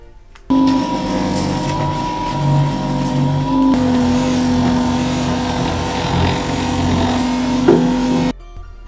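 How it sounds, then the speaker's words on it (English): Rotating polishing machine running steadily while buffing stainless steel motorcycle exhaust pipes in a workshop, a continuous loud motor whine and hum with a slight shift in tone partway through, no talking. "we're gonna do a better job with a rotating polishing machine"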